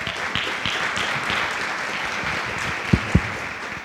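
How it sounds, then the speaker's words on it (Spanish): Conference audience applause at a Latin American event, a steady wash of clapping from a crowd with a couple of sharper close claps near the end. "Por favor, un aplauso para Juan Pablo."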